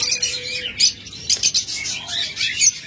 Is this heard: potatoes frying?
no